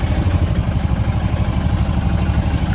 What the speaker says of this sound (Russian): Ну а потом уже поедем на тук-туке.